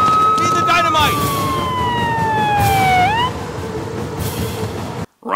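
A police car siren in a movie scene wails loudly in long falling sweeps, then cuts off abruptly, with a rumbling background bed beneath it.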